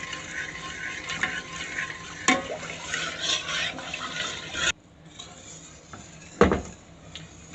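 Homemade custard simmering for gulab jamun is stirred in a pot, giving a soft scraping, bubbling churn with a couple of sharp clinks of the spoon against the pan.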